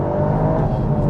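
Toyota GR Yaris engine revving hard under full throttle on dry tarmac with traction control off, a loud, steady close-up drone with no talk over it.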